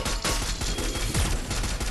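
Dense, loud gunfire in the video game Free Fire, with rapid overlapping shots and bursts, continuous and close, with no clear gaps.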